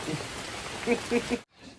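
Steady rain falls along the Appalachian Trail, making a dense hiss with brief voices faintly underneath, before it cuts off abruptly.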